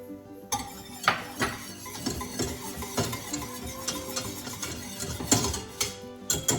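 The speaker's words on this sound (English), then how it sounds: "Now it says to whisk in the butter." Butter cubes whisked into a boiling mixture in a pot for a poppy seed pound cake glaze give steady scraping, stirring clatter with sharp clinks of the whisk against the pot, close and moderately loud, no voices.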